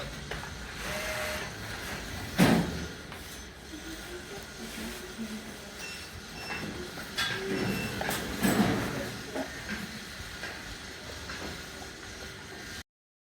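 At a metro station, a train rumbles and hisses in steadily as it arrives, with a couple of louder clanks and screeching pulses over constant background noise.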